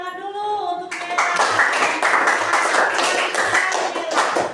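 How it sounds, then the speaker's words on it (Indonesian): A classroom audience claps for a student presenter after a group discussion report; a brief voice comes first, then steady, dense hand clapping fills the rest. "tepuk tangan dulu untuk Mela."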